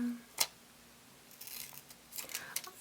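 Scissors snip through paper planner stickers with a crisp, separate cut near the start, then lighter snips and paper rustles at close range, followed by a final snip.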